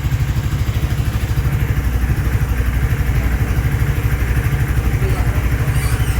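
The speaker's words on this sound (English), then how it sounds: "Let's see what it's idling at." Freshly built Hero XPulse 230 motorcycle engine idles close by with a rapid, even thumping pulse and light mechanical clatter, steady for several seconds before cutting off abruptly at the end.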